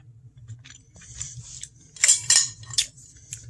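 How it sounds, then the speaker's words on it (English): Someone eats a chewy, seasoned home-cooked steak at dinner. Close, crisp chewing and utensil clicks come in uneven bursts over a low background hum, growing busier in the second half. "This steak is nice and chewy"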